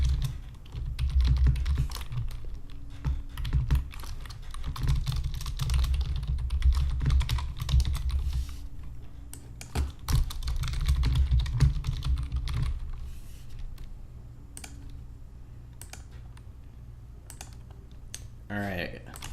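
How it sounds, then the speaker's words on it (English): Loud computer keyboard typing in rapid, uneven bursts of clicking keys close to the microphone, with pauses in between and speech mixed in over parts of it, recorded while playing Sonic Adventure DX. "Also, my keyboard's quite loud."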